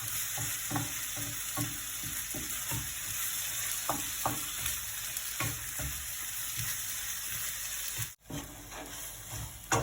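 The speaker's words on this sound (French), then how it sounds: "Voilà, on remue bien tout ça." A stuffing mixture of rice, vegetables and minced meat fries in a pan for a courgette tart, with a steady close sizzle and a run of rhythmic spoon scrapes and knocks as it is stirred, then a brief pause near the end.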